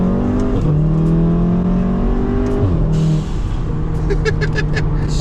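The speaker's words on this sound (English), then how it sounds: "had a Golf R with a dump valve sound" Stage 2 VW Golf R engine revving hard in repeated rising sweeps, with sharp dump valve whooshes and chatters between pulls, loud and close throughout.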